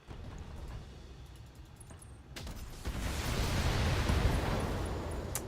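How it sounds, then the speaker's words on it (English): An ammo explosion in the BattleTech video game sounds as a sudden loud, broad blast that swells and rumbles on after a quieter stretch of background game noise. "There goes my torso to an ammo explosion."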